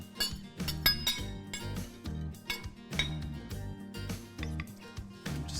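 Utensils clinking and scraping against a bowl while a garlicky mixed-bean salad is tossed, irregular close metallic and glassy taps in quick clusters, no talking.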